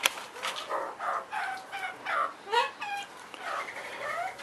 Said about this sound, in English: behind we have two chickens